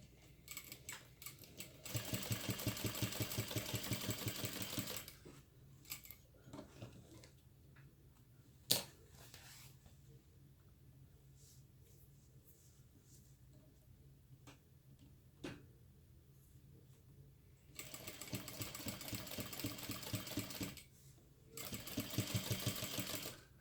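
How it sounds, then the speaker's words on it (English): A sewing machine runs in several bursts while top stitching both sides of a pressed-open seam on a crossbody bag, with quiet pauses between runs and occasional sharp clicks. "Top stitch on each side of that seam."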